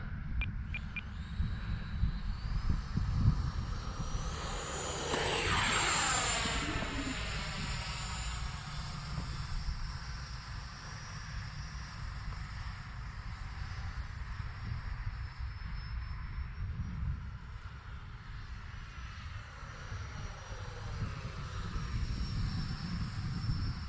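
An electric 4S RC model plane, a Marlin, whines steadily overhead for a long pass, its motor tone sweeping up and then easing off as it flies past against a broad rushing wind noise.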